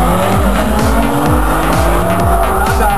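A drag racing car launches on a qualifying run in Riga, Latvia in 2008: a loud, close engine screams through repeated rising revs and gear changes, with squealing tyres throughout.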